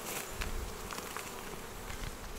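Honey bees buzz around a hive in a steady, close swarm hum with occasional louder passes near the microphone, no voices.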